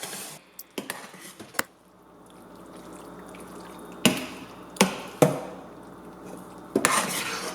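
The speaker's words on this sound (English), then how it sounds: "add the pasta to the vegetable sauce, and mix it all up really good" Pasta being stirred into a vegetable sauce in a pan, with scattered clinks and scrapes of a utensil against the pan, several sharp knocks, and a soft sizzling bed underneath, close up with no talk.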